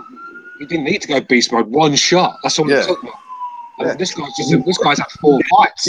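A police siren wails faintly in the background, its pitch sliding slowly downward, under continuous close male conversation.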